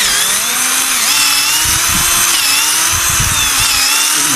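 A power drill bores steadily into a red rosewood (sưa) trunk, a loud continuous whine with a pitch that wavers and dips under load for the whole stretch, with no talking over it.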